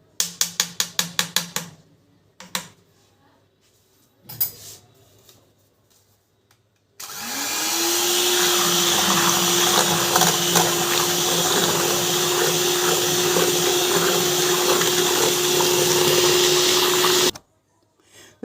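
Electric mixer whipping vanilla cream for ice cream, a steady loud whirring drone running continuously for about ten seconds after a few short clicks and clatters.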